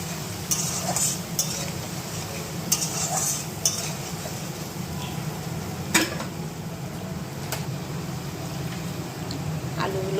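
Spices with onion, tomato, ginger, garlic and chilli sizzle steadily in a pan under occasional spatula scrapes and taps, close and continuous without speech.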